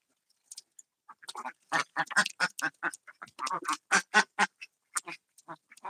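Ducks on a duck farm during hot weather quack loudly and close in a busy run of short, overlapping calls, with brief pauses between bursts.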